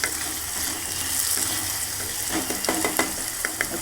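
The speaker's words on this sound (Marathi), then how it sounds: "परतून घेऊया." Potato and spinach bhaji sautéing in a pan: a steady close sizzle, with scattered sharp taps and scrapes of stirring toward the end.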